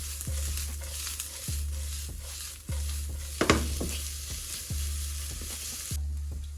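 Onions and green onions stir-fried in a hot pan for black pepper tofu: a steady, loud sizzle with a spatula scraping the pan about once a second, with no talking.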